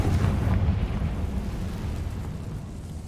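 Fiery Confringo spell explosion in the video game Hogwarts Legacy, a loud, rumbling boom at the start that rolls and slowly fades over a few seconds, with no talking.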